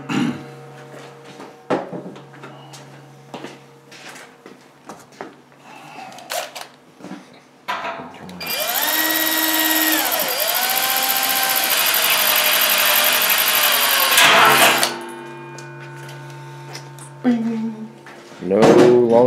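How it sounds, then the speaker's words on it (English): Power drill boring holes into a costly stainless steel brewing kettle for an electric HERMS brewing setup, a loud sustained whine with pitch sweeps lasting several seconds, with people talking before and after. "watch as we drill some holes in a real expensive kettle"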